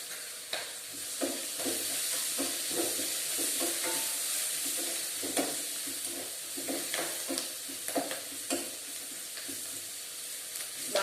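Curry base for poori curry fries in a pan with a soft continuous sizzle, while a spoon scrapes and stirs in repeated quick strokes throughout.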